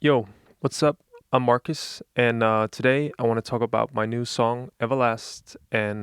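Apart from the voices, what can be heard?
No everyday noises stand out.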